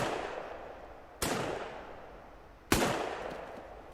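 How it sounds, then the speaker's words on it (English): Two sharp, loud gunshots from the sandbox shooter game Beyond Sandbox, about a second and a half apart, each with a sudden crack followed by a long decaying echo, with no voices. "That was probably 12 shots"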